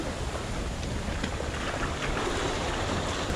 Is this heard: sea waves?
yes